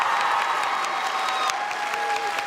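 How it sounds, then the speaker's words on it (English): Convention panel audience at PAX West applauding steadily and densely throughout, a broad continuous clatter of many hands with faint cheering mixed in. "Clap again."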